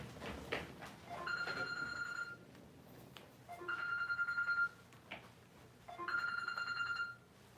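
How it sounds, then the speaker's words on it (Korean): A phone rings with an incoming call in three repeated bursts of a bright electronic ringtone, moderately near, over low background noise. "전화가 와."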